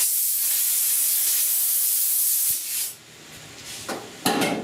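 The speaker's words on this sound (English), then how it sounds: "You can definitely use your sandpaper. Start cutting it down." Sandpaper scuffs body filler on the rust-repaired cowl of a 69 Chevy C10 in a steady, hissing rasp. Near the end it gives way to a few sharper, scattered scrapes.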